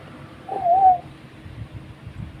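A large bird calls once with a short, tonal, cooing hoot, fairly close and clear above a low background rumble, heard outdoors on a walk toward Pico de Loro.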